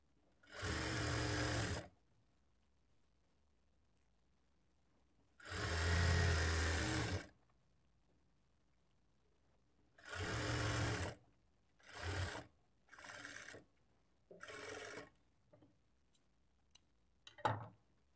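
A sewing machine stitches thread piping onto cloth in several bursts: three longer runs of steady whirring, then a few shorter runs, separated by near-silent pauses, close and clear with no talking.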